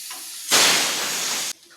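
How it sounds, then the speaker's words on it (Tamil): A pressure cooker cooking mutton for a roast lets off steam: a sudden loud, steady hiss close by that lasts about a second, then stops sharply, with a faint whistle-like tone at the start. "இப்போ நம்ம குக்கரில் போட்டு ஒரு 5 விசில் அடிக்கட்டும்"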